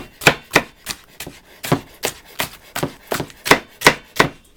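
A knife julienning red pepper on a cutting board with a rocking motion, about fourteen crisp, close chops in a fairly even rhythm, with no talk.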